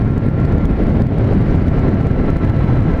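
Steady, loud wind buffeting and low roar while riding a Triumph Street Triple S 660 motorcycle on the road, continuous and close to the microphone, with no talking.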